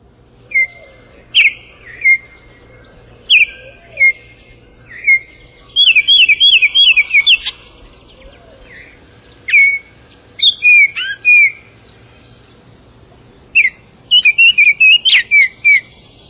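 A recorded song of an oriole-type songbird that weaves hanging pouch nests from grasses: bright, clear whistled phrases repeated every second or two, with quick trilled bursts in between, loud and clean with no voices.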